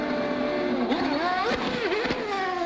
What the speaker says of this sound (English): Oh, he smokes the tires.